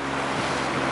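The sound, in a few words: motor fishing boat on the sea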